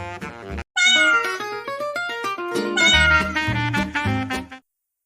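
A black cat meows loudly and close by in two clear, drawn-out calls. The first is short and quickly cut off, and the second is a long, wavering cry that rises and falls before it stops abruptly.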